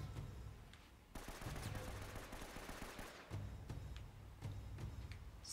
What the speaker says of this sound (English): Somebody shooting from up above